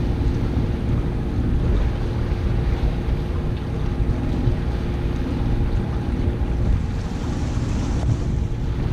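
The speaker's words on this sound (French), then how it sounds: "Pas de voile, tranquille au moteur." A sailboat motoring off Cap de Creus in the Mediterranean with sails down, a steady low engine drone under wind and water rush, continuous and close throughout, no talking.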